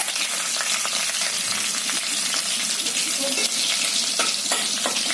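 Crushed garlic sizzles in hot oil during potato kachrya cooking, a continuous close frying hiss with scattered pops and faint stirring scrapes throughout.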